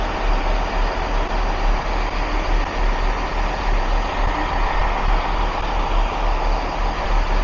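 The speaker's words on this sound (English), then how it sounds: "So this is our train coming in." A train bound for Portsmouth Southsea pulls into Westbury station with a steady, loud, low engine rumble that holds evenly throughout. No voices can be heard.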